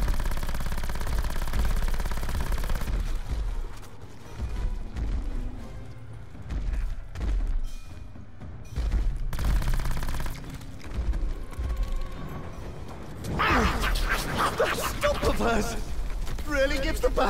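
Gunfire in a video game, repeated shots and booming blasts mixed with game effects, loud and dense throughout, with a voice speaking over the action.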